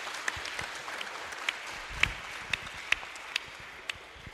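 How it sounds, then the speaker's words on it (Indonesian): Audience clapping at an Islamic sholawat and dakwah gathering in 2018, scattered individual hand claps over a murmuring crowd, with sharper claps standing out at irregular intervals. "Nah, tepuk tangan ini untuk"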